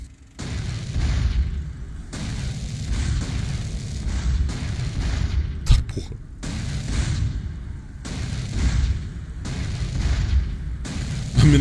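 Gunfire in the video game GTA San Andreas, bursts of loud booming shots in repeated clusters with short pauses between, heard alone without talk.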